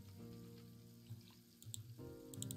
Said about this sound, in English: why are we just letting water run?